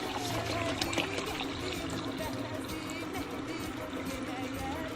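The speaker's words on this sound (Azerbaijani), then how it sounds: "Suyumuzu da əlavə edirik. Pisli suyumuzu qazanın içine." Water poured into a cooking pot for apple compote, a steady continuous splashing stream lasting throughout, with a faint voice in the background.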